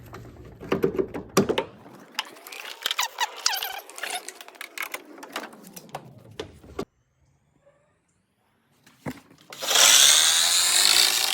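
Channel lock pliers bend back the fender metal of a Chevy Silverado, making close scraping and creaking, squeaky metal strains and sharp knocks. A brief quiet gap follows, then a loud steady hiss near the end.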